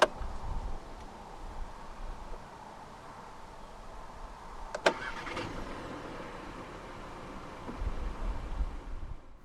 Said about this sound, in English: to start, put your foot on the clutch, insert the key into the slot right here, and twist the key like you would in a normal car